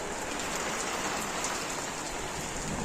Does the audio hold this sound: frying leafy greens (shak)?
no